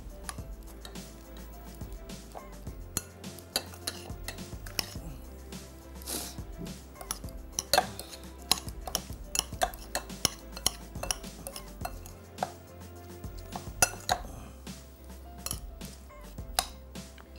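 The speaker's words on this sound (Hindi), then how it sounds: "इसको खूब अच्छी तरीके से अब आपने मिक्स कर देना है" Vegetables stirred in a metal cooking pan: frequent sharp clinks and scrapes of a utensil against the pan, irregular and close, over a steady background hiss, with a voice talking at times.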